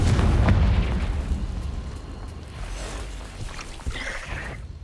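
Explosive blasts from the Confringo fire spell in the Hogwarts Legacy video game, starting with a heavy booming burst and then a rumbling, crackling tail with scattered smaller pops.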